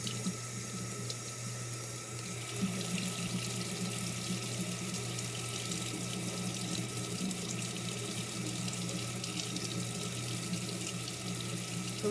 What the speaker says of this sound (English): I'm just going to rinse it in some water here.